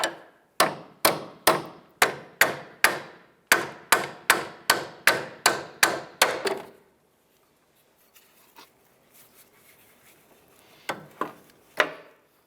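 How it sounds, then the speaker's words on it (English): Hammer blows on a Ford Fiesta sway bar end link, driving it out of the front strut: about fifteen sharp metallic strikes in a steady rhythm, close and loud, then quiet with a few faint knocks and two final taps. "I'm going to go ahead and use our hammer to go ahead and tap this out of the strut."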